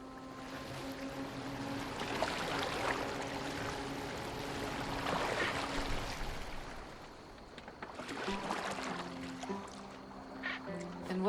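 A boat steered across water in Assassin's Creed Valhalla, its steady wash and lapping water running under game music and a voice, moderately loud and continuous throughout.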